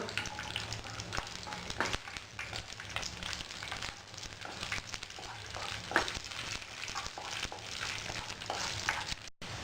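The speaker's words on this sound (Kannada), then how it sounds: "ಇದಕ್ಕೆ ದ್ರಾಕ್ಷಿ, ಫ್ರೈ ಮಾಡ್ಕೊಳ್ಳೋಣ." Raisins frying in a pan of fat for pineapple halwa, a steady close sizzle with crackling pops and occasional stirring scrapes, running continuously without talk.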